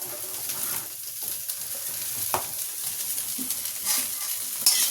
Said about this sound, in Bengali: সোয়াবিনটা প্রথমে একটু নুন হলুদ দিয়ে ভেজে নিই